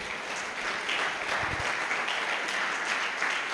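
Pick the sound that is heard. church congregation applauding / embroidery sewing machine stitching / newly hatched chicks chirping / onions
church congregation applauding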